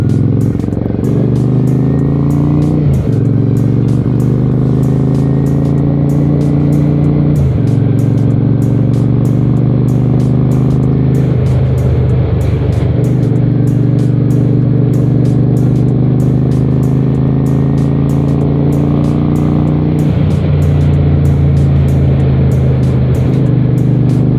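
A 1992 Honda Shadow 400 cruiser motorcycle rides steadily in third gear with a loud, continuous engine drone, its pitch dipping briefly at a few gear or throttle changes; no talk is heard.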